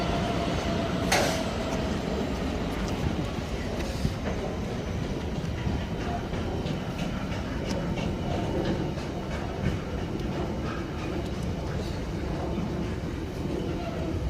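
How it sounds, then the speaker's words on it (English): A freight train hauled past on the West Coast Main Line at Nuneaton, a steady, continuous rolling rumble with rail clatter filling the whole stretch, fairly close and unbroken, with faint voices in the background. "as this freight is passing"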